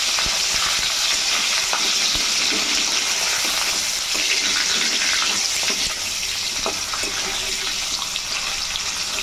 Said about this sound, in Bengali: পনিরগুলো কিন্তু একটু হালকা করে ভেজে নেব বেশি ভাজার দরকার নেই